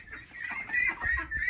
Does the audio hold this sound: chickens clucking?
yes